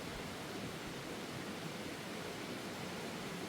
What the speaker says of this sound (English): The water in the background is still quite noisy.